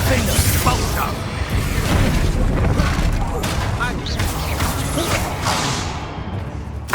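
Spell-casting explosions in Hogwarts Legacy, a dense, continuous roar of booms, crashes and whooshes throughout, loud and close, with voices mixed into the combat.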